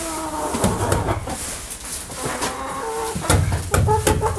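Hens cluck and call in an unheated greenhouse during a bitter winter freeze at about minus 30 degrees, a steady close chorus of layers with sharper squawks rising toward the end.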